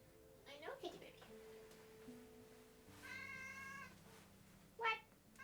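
Domestic cat meowing indoors, a few quiet separate meows spread over several seconds against a faint low background hum.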